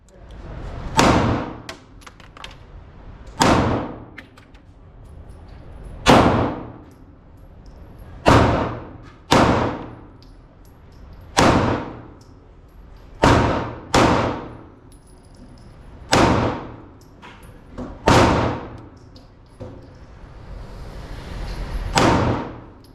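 A 9mm pistol firing 124 grain Veteran ammunition cracks out about a dozen sharp, loud shots at irregular intervals, each ringing off briefly, with quiet gaps between.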